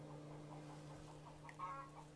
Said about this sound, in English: Oh my goodness, chickens.